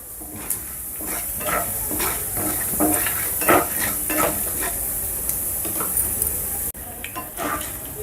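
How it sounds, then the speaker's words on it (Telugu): Tempering spices and peanuts fry in hot oil in a pan for tomato bath, a steady close crackling sizzle with scattered stirring scrapes and pops, no talking. "మనం మీడియం ఫ్లేమ్లో ఈ పోపు దినుసుల్ని వేపుకున్నట్లయితే మంచి స్మెల్ వస్తుంది"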